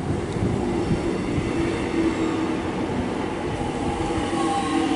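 A Melbourne suburban train runs at Greensborough station, giving a loud, steady rumble of wheels and carriages with a faint squeal, close by and continuous, with no talking.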